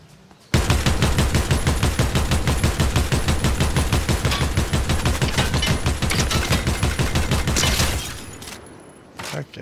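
Rapid automatic gunfire in the Fortnite video game, a loud sustained burst of closely spaced shots rattling for about seven seconds before cutting off abruptly, with a short echo after.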